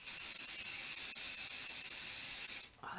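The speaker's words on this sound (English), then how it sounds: "I actually might just spray this because I want to fill that top corner too" A steady aerosol hiss of hairspray from a can sprays continuously for almost three seconds, loud and close, then cuts off abruptly.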